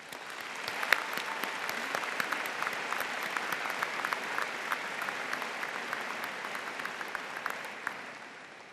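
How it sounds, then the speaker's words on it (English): A large crowd at a high school class of 2015 commencement ceremony applauds steadily for nearly nine seconds, a dense, even patter of many hands that fades slightly at the end. "Let's have a round of applause for all the people who have supported us over the past 4 years."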